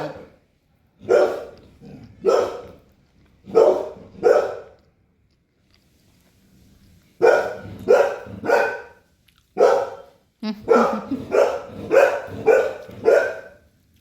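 A dog barks in loud, close bursts, first in spaced pairs and then in a rapid run of repeated barks, with brief quiet gaps between groups.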